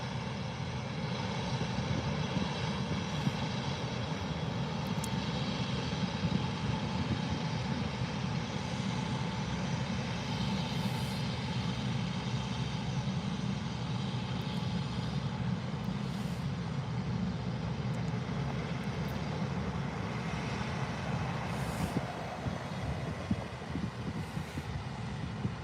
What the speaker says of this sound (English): Still never get over the A380.